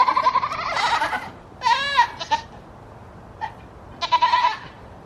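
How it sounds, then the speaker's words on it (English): A Nubian goat bleats loudly and close by in several wavering, nasal calls with short pauses between them, with no talking. "Did you guys know that Nubians are actually the loudest goat?"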